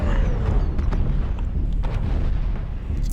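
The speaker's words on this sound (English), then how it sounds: "rotary weapons are super fast firing, ballistic weapons, super fun" Rotary ballistic weapons firing in the MechWarrior Online video game: a dense, continuous rumble of rapid booming gunfire with sharp bursts scattered through, loud and sustained throughout.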